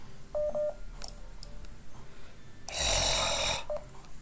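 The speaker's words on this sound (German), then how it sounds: "Telefonier gerade," Several short telephone keypad dialing tones beep in a quick cluster early on, then a loud burst of broadband noise follows, with a single faint tone near the end; no one speaks.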